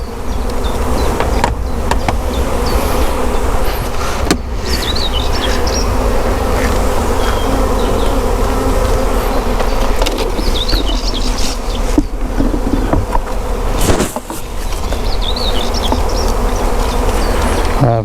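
A honey bee swarm flies overhead near beehives, producing a loud, dense, continuous buzzing drone that fills the whole stretch without a break, with a few faint outdoor knocks underneath.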